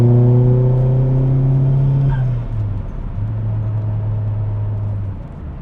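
Vauxhall Astra VXR, rebuilt engine with front-mount intercooler, pulling through a clean gear change and accelerating again in 4th, loud steady engine drone with a brief dip at the shift then rising again.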